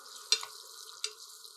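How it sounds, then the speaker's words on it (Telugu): Green chillies frying in tempering oil with a faint, steady hiss, marked by two brief crackling pops. "కొద్దిగా పచ్చిమిర్చి వేగనివ్వండి"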